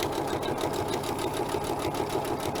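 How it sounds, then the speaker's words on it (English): Sewing machine stitching the long edge of a fabric bunting flag, a fast, even mechanical chatter that runs continuously and close up, with no voices. "So again, I'm sewing that long edge,"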